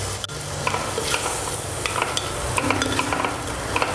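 Moringa leaves are sautéed and stirred in a hot pan, a steady sizzle broken by repeated scraping and clicking of the spoon against the pan, close and distinct, with no talking.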